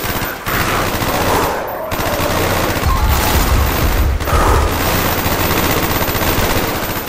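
Sustained automatic gunfire in the Call of Duty: Black Ops video game, loud and dense with continuous rattling bursts, heavy low booms and brief pauses, close and dominating the whole stretch.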